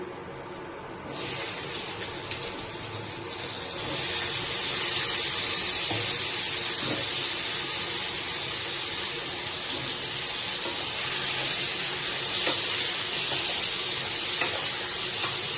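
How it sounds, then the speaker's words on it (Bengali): Potatoes dropped into hot oil in a wok after tempering spices, a sharp rise into a loud, continuous sizzle that holds steady, alone without talk. "এবার আলুগুলো ছেড়ে দিচ্ছি।"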